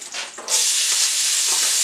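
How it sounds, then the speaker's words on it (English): Onion drops into hot oil to sauté, a sudden loud hiss of sizzling that bursts in after a brief quieter sputter and holds steady. "I'm adding oil because I need to saute my vegetables"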